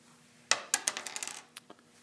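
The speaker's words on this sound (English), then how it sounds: "what I'm going to go ahead and do is just roll the dice" A single die is tossed onto a hard surface, giving a sharp first impact and then a quick series of smaller clattering bounces that fade away over about a second. The sound is close and clear with no voices.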